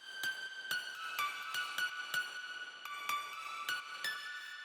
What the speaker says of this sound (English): Next up, we got the high pluck lead.